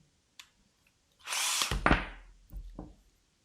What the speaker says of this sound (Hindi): दूसरे स्क्रू के साथ में ये भी आराम से कस गया।